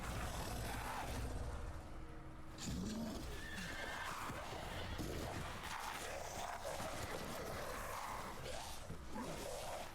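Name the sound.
horse neighing in Resident Evil Village video game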